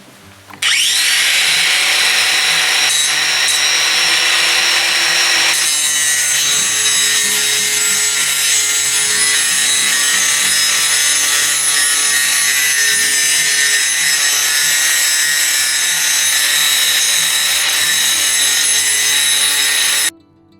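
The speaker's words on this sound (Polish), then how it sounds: "Zmieniliśmy tarczę na tarczę do szlifowania. Zobaczymy jak teraz da sobie radę." Yato 18V cordless 125mm angle grinder (model YT-82827) fitted with a grinding disc, whining loud and continuous for nearly twenty seconds as it grinds, with a brief dip partway through and no talking.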